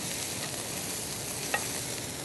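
Onions fry and caramelize in a pan, giving a steady, soft sizzle with a faint clink of stirring partway through and no speech.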